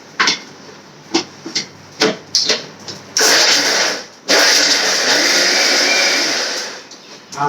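A kitchen mixer grinds mint, coriander and curry leaves into a paste, first in several short pulsed bursts, then in two longer loud continuous whirring runs, close up and with no talk.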